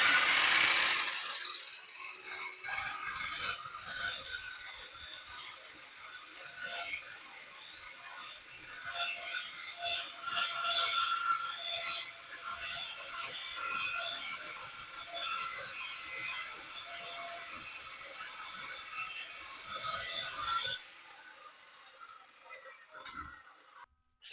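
A WEN 14-inch metal carbide saw cuts through a piece of metal clamped flat, producing a continuous harsh, bright grinding whine, close and loud, ending abruptly after about twenty seconds with the motor winding down.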